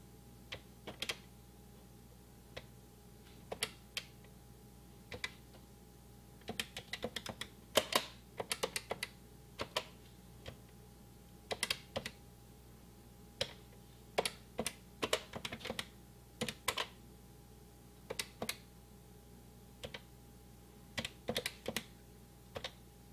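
Irregular bursts of clicky keystrokes on an old computer keyboard as a short program is typed in, with pauses between groups of presses, close and fairly quiet over a steady low electrical hum.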